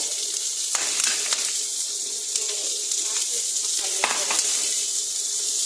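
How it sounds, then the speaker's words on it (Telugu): Onion and cumin seed tempering in a pan for upma or chutney, with a bright, steady sizzle close by and occasional stirring clicks and scrapes against the pan. "ఉల్లిపాయ జీలకర్ర పోపు కూడా వేస్తారు అన్నమాట"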